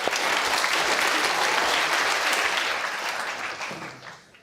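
A television studio audience applauds loudly and steadily, a dense wash of clapping that holds for several seconds before thinning and fading at the end.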